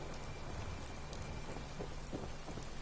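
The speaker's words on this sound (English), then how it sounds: "It's the sound of sizzling meat?" A faint, steady crackling hiss like meat sizzling in a pan at a BBQ pit in the video game Fallout 4, with small pops scattered through it and no voices.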